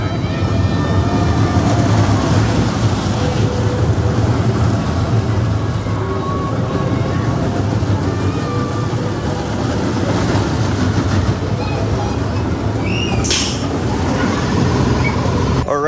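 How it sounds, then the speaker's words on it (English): A Vekoma junior kiddie roller coaster, Hollyhock Roll, gives a steady rumble and clatter of cars rolling along track for the whole stretch, with a faint squeal near the end and bits of distant voices mixed in. "It's just your basic Vekoma junior coaster."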